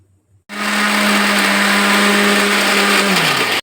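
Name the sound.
mixer grinding ingredients finely for ragi burfi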